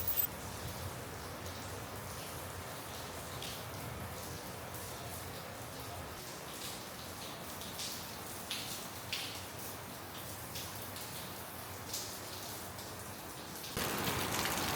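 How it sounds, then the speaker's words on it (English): Steady rain in the Philippines falls and patters on nearby surfaces, a constant hiss with scattered heavier drops, growing louder near the end. "wait for the rain to stop"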